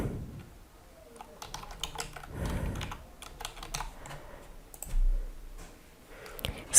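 Someone types a first and last name on a computer keyboard while creating an Xbox account, a quick run of close, light key clicks with short pauses and a heavier tap near the end.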